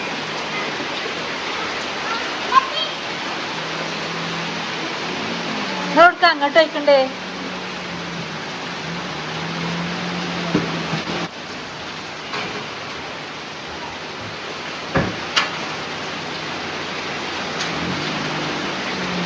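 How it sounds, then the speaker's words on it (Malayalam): Steady heavy rain hisses continuously, with people talking now and then over the downpour and a few knocks and clatters nearby. "നല്ല മഴയാണ് നല്ല മഴ നല്ല മഴ"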